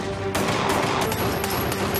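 Rapid bursts of gunfire and scattered shots ring out in a dubbed TV drama action scene, a dense, loud fusillade filling the whole stretch with no talk over it.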